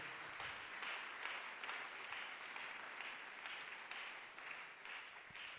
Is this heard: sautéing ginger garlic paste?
no